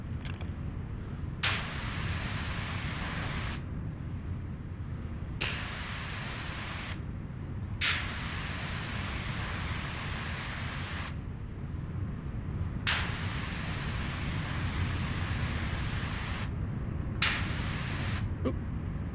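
Pressure washer spraying cleaning liquid in PowerWash Simulator VR, a steady broadband hiss in long bursts broken by several short pauses, loud and close throughout.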